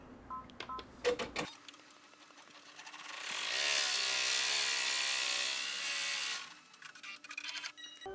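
An embroidery machine stitches a tack-down outline on a small shirt, a fast steady mechanical whirring for a few seconds, framed by quieter clicks and ticks of the machine before and after.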